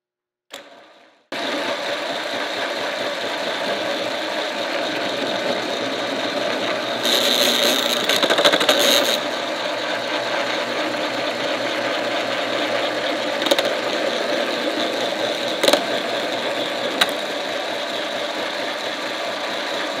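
A Tapmatic 50X tapping head, rated up to half-inch taps and mounted on an old mill head, runs steadily while cutting threads, giving a continuous mechanical whir with a brief louder rise midway and no talk.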